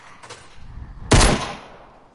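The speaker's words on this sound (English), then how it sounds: "Why are you shooting at me?" Gunfire in the Fortnite video game: a faint pop early on, then one loud, sharp gunshot that rings out and fades over the next second.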